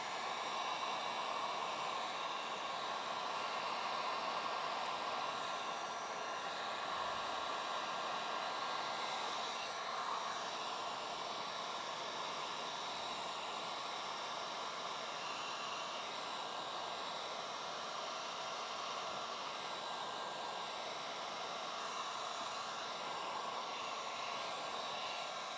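A heat gun warms matte paint protection film on a car, a faint, even airy hiss that holds steady throughout with no voices.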